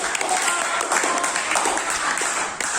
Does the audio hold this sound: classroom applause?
yes